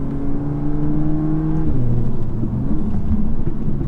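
An EQT-tuned Audi S3 with a dual-clutch gearbox is driven hard on backroads, its engine note rising steadily then dropping and climbing again as it shifts, loud and close from inside the cabin.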